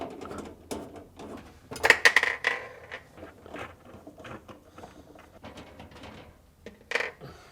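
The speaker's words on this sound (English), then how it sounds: "remove these 4 screws on the evaporator cover using a 1/4 inch nut driver" Screws being backed out of a Whirlpool refrigerator's evaporator cover with a 1/4 inch nut driver, giving a run of small, close metallic clicks and taps with a couple of sharper rattles.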